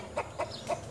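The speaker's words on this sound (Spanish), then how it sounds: "Así que muchos videos míos, ese gallo, él canta." A backyard rooster calls in three short, evenly spaced bursts, faint and a little distant over a low outdoor background.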